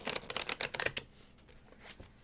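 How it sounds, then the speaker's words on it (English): Tarot cards are shuffled in a fast burst of crisp riffling flutters, close by, that then trail off into a few softer card taps. "get these cards shuffled."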